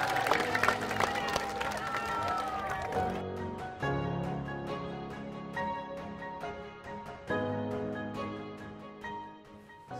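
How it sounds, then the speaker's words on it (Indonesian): An audience applauds on the set of a one-night challenge TV show, with bursts of clapping and crowd noise rising and falling over a musical backdrop. "Tepuk tangan semua"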